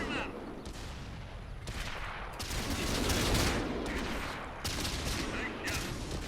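BT-SV tank cannon shots in the console version of World of Tanks, a few booming blasts with rumbling tails over continuous battle noise, moderately loud, with no talk.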